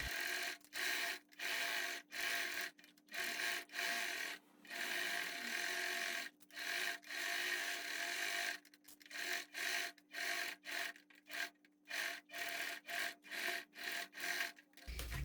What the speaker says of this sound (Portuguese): aqui eu vou passar a costura